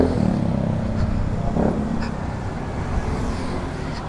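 A Yamaha Sniper 155 VVA motorcycle idles at a service shop, its engine a steady low rumble throughout with faint background clatter and no talk.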